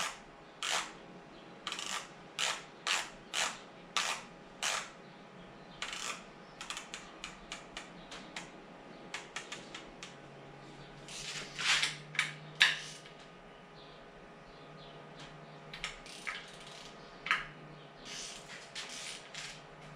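A torque wrench tightens 6mm studs on an engine in a workshop, giving a quiet series of sharp ratcheting clicks in irregular bursts with short pauses, close by and without talking.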